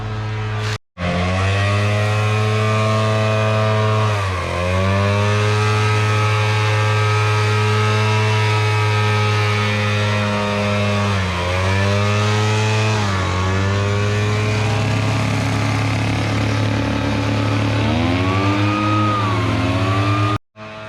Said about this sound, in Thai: พ่นลมเพื่อ ปัดเป่าใบไม้ต่างๆเพื่อทำแนวกันไฟมาบริจาคไว้ครับ